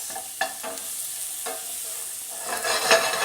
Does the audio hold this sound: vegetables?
yes